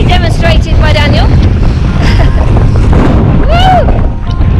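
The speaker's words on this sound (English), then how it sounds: "It's a little windy" Strong, constant wind buffets the microphone on an exposed mountain summit in fog, a loud steady roar throughout, with a voice and brief whoops cutting through now and then.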